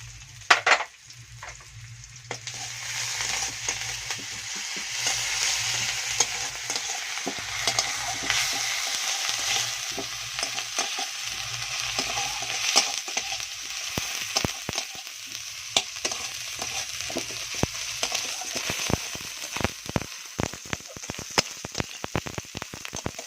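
Ginger paste and garlic paste frying in a pan, giving a loud, continuous close-up sizzle with a patter like rain, broken by intermittent stirring scrapes. The crackling grows busier and sharper toward the end, and no one speaks.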